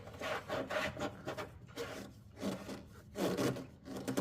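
Hydraulic reservoir cap being tightened by hand, a series of close scraping, rasping twists in short repeated bursts with brief pauses between, fairly quiet and with no talk.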